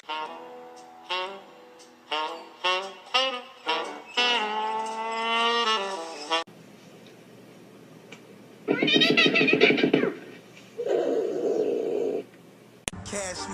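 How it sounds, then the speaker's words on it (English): A cat gives a run of short, separate meows, then a long drawn-out yowl, followed after a quieter gap by louder, harsher vocal bursts, all close to the listener. "Meow meow meow meow."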